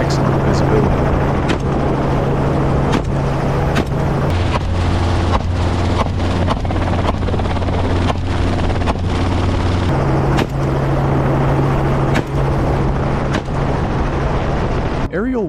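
Helicopter flying during a Texas feral hog hunt, a steady loud rotor and engine drone running continuously with wind buffeting over the microphone.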